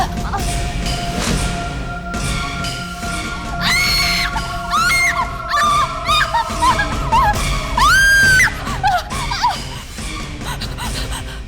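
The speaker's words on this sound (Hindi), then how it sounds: "चिल्ला क्यों रही हो?" A woman screams in fright in a horror drama, with shrill, wavering cries and gasps rising over a steady low drone and eerie tones, loud and close.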